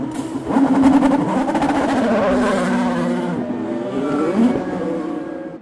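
An IndyCar on a street circuit in Houston accelerating away from a pit stop, its engine revving loudly and steadily rising in pitch, close by and dominant throughout.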